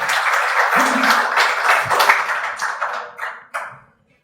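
Warm applause from an audience welcoming the speakers at a book presentation on the war in Ukraine, a dense wash of clapping that holds steady, then thins into a few scattered claps and dies away.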